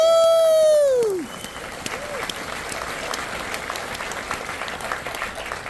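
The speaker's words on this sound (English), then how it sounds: "big round of applause for Jean Hoglan." Audience applause at a San Diego Comic-Con Metalocalypse panel, steady crowd clapping that keeps going after a descending feedback whine fades.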